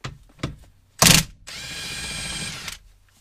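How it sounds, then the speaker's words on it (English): A pneumatic impact wrench removes a 15 mm bolt on a BMW, with a few short clicks and a loud burst, then a steady whirring buzz of about a second and a half, up close with no talk. "Let me grab the impact for that. We'll rip it off"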